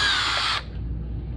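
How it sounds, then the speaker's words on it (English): Power drill whirring at close range while removing the license plate mount from a Ninja 400 motorcycle, a loud high spin for about half a second that cuts off abruptly and leaves quiet room noise. "Okay, set a drill there."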